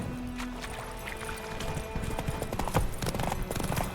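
Roach, a horse in The Witcher 3 video game, trots with a steady, close clip-clop of hooves that grows a little louder toward the end, over a bed of game ambience.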